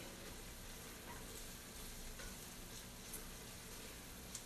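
Pasta sauce mixture sizzles steadily in hot oil in a pan, a continuous close hiss and crackle running unbroken throughout with no talking.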